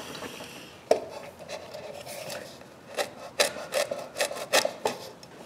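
Hand tools cut and scrape away mahogany to form a hinge recess in a small box, giving short rasping strokes and a few sharp knocks, irregular at first and then coming in quicker bursts, close by with no talking.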